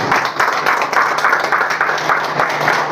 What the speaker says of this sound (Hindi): तो अपने लिए ताली बजा दीजिए